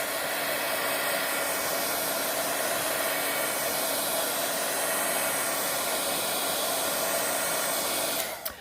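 A handheld dryer blows on rubber cement on a craft embellishment, a loud, steady whooshing whine that runs unbroken almost to the end, then cuts off abruptly with a brief clatter.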